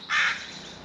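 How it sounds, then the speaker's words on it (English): A single crow caw, short and fairly clear, rises against a steady outdoor background hiss. "crows, I tell you, they're violent around here"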